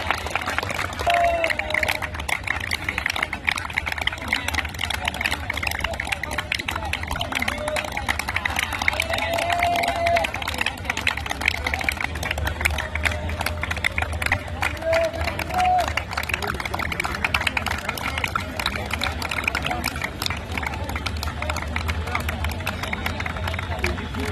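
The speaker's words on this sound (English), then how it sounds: "let's have a huge round of applause for our best player" At a Subroto Cup football tie-breaker, a large crowd keeps up dense, continuous applause and hubbub throughout, with a few brief higher calls rising above the noise.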